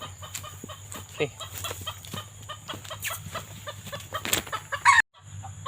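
Chickens and chicks cluck close by in repeated short bursts, with brief peeps and a crowing-like call near the end.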